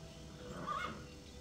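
A white horse gives one short, faint neigh in the Starshine Legacy 2 game, a brief high whinny rising out of a soft, steady ambient background, with no talking.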